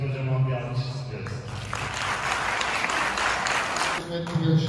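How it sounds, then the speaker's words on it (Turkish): Audience at a mosque-organized quiz competition breaks into applause midway, a moderate burst of clapping that swells and fades, with a voice speaking before and after. "Kocaman bir alkış istiyoruz."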